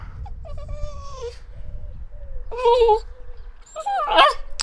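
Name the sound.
dog whimpering, wanting to eat the microphone muff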